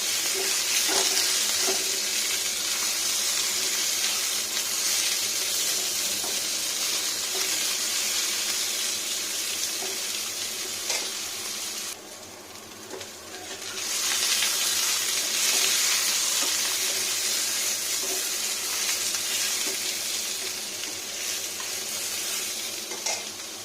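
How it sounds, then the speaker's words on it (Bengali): Bitter gourd and eggplant frying in white cooking oil in a home kitchen, a steady close sizzle with faint stirring that dips briefly midway before resuming, no talk. "বেগুনটাকেও তুলে নিই, সব ভাজা করে নিলাম।"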